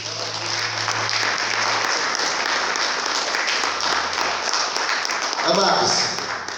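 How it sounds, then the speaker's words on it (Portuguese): Congregation applause fills a church service, a broad, steady roar of many hands clapping throughout, with a low tonal hum underneath and a brief swell near the end. "Aplauda o Senhor por isso."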